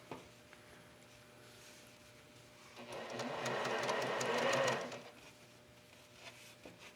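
A sewing machine stitches a quarter-inch seam on quilt triangles: a quiet, steady whirring run of about two seconds, preceded and followed by near silence.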